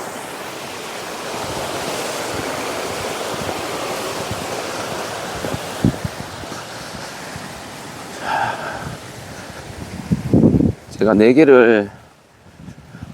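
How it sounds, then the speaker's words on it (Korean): Strong headwind roars steadily across an outdoor golf course, a constant rushing buffet against the microphone, with someone speaking briefly toward the end over the gusts. "지금 맞바람 막 바람 소리가 나죠"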